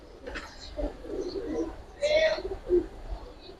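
Giribaz and Afsan Bagha pigeons coo softly in short, scattered bursts against a quiet background.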